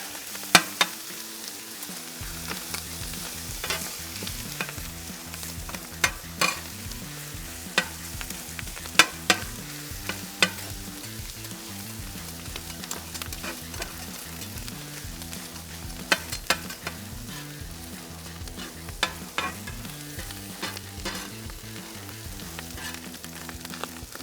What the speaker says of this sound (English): And we're just gonna start chopping them up.